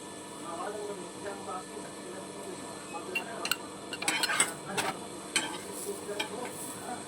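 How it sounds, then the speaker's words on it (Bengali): Paneer paratha frying on a tawa gives a soft, steady sizzle with scattered scraping clicks of a spatula as it is flipped and turned, louder bursts in the middle; a voice talks over it. "পরোটাটা এবার উল্টে পাল্টে খুব ভালোভাবে ভেজে নেব"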